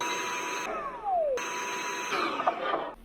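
A vacuum cleaner sucks debris and leftover shipping foam out of the chamber of a VacMaster VP215 chamber sealer during a repair, a steady close roar with a brief drop in pitch and a short cutout midway.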